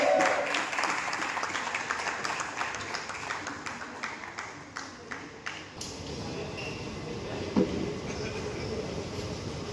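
Gathered crowd at a political committee announcement claps loudly to welcome former mayor Pancham Kalani, the sharp individual claps giving way after about six seconds to a busier, noisy room murmur with a single loud knock near the end.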